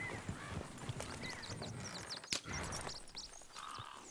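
Horse hooves clip-clopping in the Red Dead Redemption 2 video game, a quiet, steady walking rhythm with bird chirps overhead and one sharp thump partway through.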